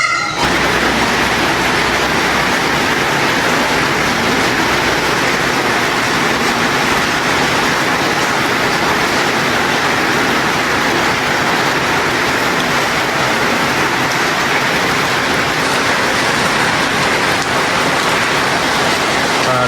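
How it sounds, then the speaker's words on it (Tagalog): Steady, heavy rain pours down continuously, a dense hiss of drops drumming on surfaces with no break. "Tuloy-tuloy pa rin yung ulan, oh."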